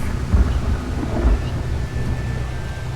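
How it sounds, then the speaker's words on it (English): A thunderstorm rumbles in Atomic Heart, with low thunder rolls swelling twice over a constant wash of wind and rain, heavy and close. "It's like a storm here."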